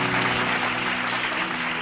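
Congregation clapping during a Bible study, a steady wash of applause from many hands filling the room, loud and continuous with a faint hum beneath.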